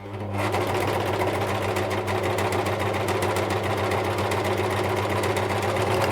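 A Bernette 610D serger runs at low speed, a steady, close mechanical hum with a fast rattling clatter that continues evenly for about six seconds.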